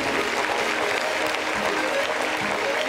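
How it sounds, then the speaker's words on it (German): A German literary reading audience applauds after the first performer's text, steady dense clapping filling the room throughout without any voices. "Ihr Applaus, meine Damen und Herren."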